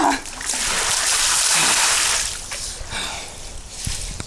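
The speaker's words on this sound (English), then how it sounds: "This is my 30 to 60 second cool down in the horse trough." Water splashing and sloshing in a horse trough as someone cools down in it, a close, fairly loud burst of splashes that eases into softer sloshing and trickling.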